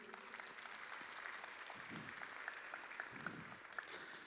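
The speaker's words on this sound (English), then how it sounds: "can Roman have a round of applause, please?" A conference audience applauds a speaker, with steady, moderately distant clapping that carries through the whole stretch and no voice over it.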